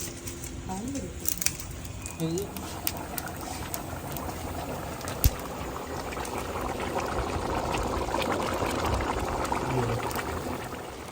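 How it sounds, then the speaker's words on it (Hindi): Water bubbles and simmers steadily in a large pot of rice for chicken pulao, a soft continuous boiling hiss with a few light clinks and taps near the start. "अभी ना पानी में बॉयल आया और सारे चावल हम लोगों ने डाल दिए"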